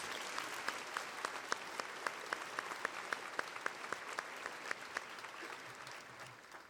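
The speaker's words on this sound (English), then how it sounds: "Let's give everybody a round of applause" A high school commencement crowd gives a steady round of applause, moderately distant, with a few distinct claps standing out in a regular rhythm before the sound gradually thins.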